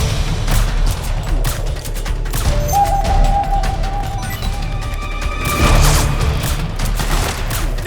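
Gunfire in the video game Metal Gear Solid 4, with dense bursts of automatic shots and sharp cracks running throughout, loud and close, layered with game effects and brief tones.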